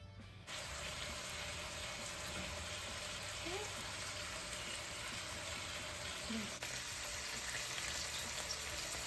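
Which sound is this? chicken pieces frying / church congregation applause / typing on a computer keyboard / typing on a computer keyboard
chicken pieces frying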